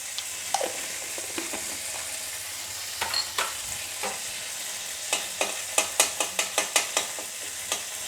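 Panch phoron spices frying in hot oil while a spoon stirs them, giving soft sizzling under a series of sharp scraping clinks that quicken into a rapid run toward the end.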